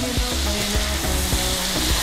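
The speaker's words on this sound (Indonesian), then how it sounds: "Kita goreng lagi. Ini biar makin harum banget nih." Petai beans and sambal frying in hot oil, a steady loud sizzle and crackle with faint rhythmic stirring knocks, close up and continuous, no talk.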